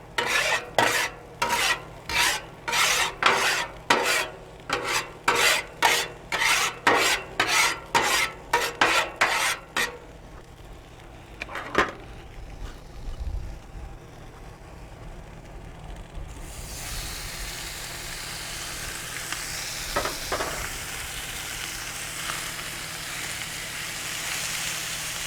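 Inside skirt steak meets a hot Blackstone griddle for fajitas, starting with a rapid run of rhythmic metal spatula scrapes, then a few clanks before a steady, soft sizzle settles in.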